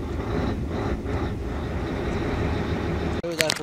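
A Mercedes Actros 1844 truck's V6 engine drones steadily while driving with a low rumbling roar, ending in a brief clatter and a sharp shift in sound.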